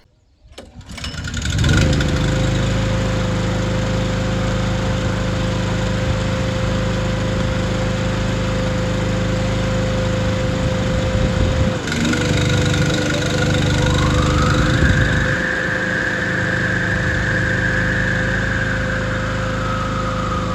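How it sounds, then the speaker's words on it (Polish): An Aries EAT7000 5.6 kW generator starts up and runs steadily with a loud, even engine drone, then a large construction saw is switched on and its blade spins up with a rising whine that settles into a steady hum alongside the engine. "postanowiłem go podpiąć pod taką dużą piłę budowlaną i agregat bez problemu również zdołał poruszyć tą tarczą"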